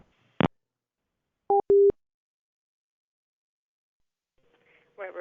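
Telephone busy signal after a call is hung up: a sharp click, then two short steady tone beeps in quick succession, followed by silence and a faint noise at the end.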